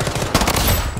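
A short, loud burst of rapid automatic gunfire from the Blood Strike video game, with dense overlapping shots filling the whole moment.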